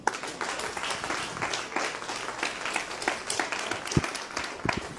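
A church congregation applauds the Lord during a sermon, a sustained wash of many hands clapping at moderate loudness, with a few sharper individual claps standing out near the end.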